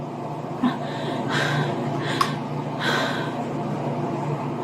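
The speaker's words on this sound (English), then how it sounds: "Slow your breathing down." A woman struggles to breathe, taking heavy, labored breaths with a few gasping surges over a steady low background hum, close and moderately loud with no talk.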